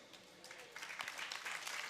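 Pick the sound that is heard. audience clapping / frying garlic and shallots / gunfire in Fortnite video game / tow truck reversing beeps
audience clapping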